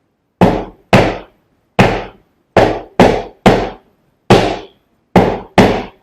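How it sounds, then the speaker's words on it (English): Flamenco footwork in an Alegrías drill: crisp double golpe stamps strike a hard floor in loud, separate hits with short silent gaps. Some hits come alone and some come in quick pairs or runs. "The transition into the drill, just to reiterate that and focus on that for a second, is a double golpe"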